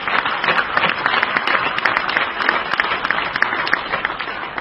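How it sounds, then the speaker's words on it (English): Audience applause at a building-industry awards dinner, a steady dense round of clapping from a large crowd indoors, filling the whole moment without talk over it. "I think we should first give them a round of applause for organizing this and supporting that."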